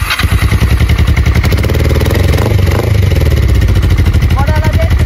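A Kawasaki ER5 motorcycle engine fires up and runs loud and close with a rapid, throbbing idle, while a voice talks over it.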